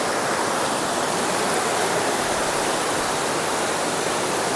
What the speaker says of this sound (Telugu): వాటర్ ఫాల్స్ ఇంకా చూడడానికి భలే ఉంటుంది